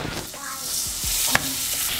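Butter goes into hot cooking oil in a pan, bringing a close, loud sizzle with a few sliding scrapes and one sharp tap near the end.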